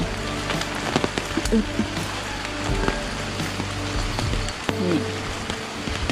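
Heavy storm rain patters steadily on a surface after two days and nights of rain, a dense continuous hiss of drops with a few faint sounds in the background.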